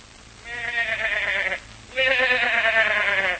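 A goat bleats twice, each call long and wavering, the second louder and more drawn out, in an old radio drama scene with no talk over it.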